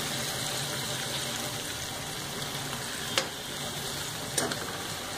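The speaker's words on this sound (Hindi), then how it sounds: "मटर को हमें थोड़ा सा बफ जाए इतना हमें उसे तेल में घुमा लेना है।" Peas being fried and stirred in hot oil for a raw-banana samosa filling, giving a steady close sizzle with a couple of brief clinks or scrapes, and no voices.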